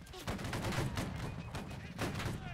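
A musket volley in the video game Battle Cry of Freedom erupts as a dense, rolling crackle of many shots nearly together, loud and sustained for a couple of seconds with a second swell near the end.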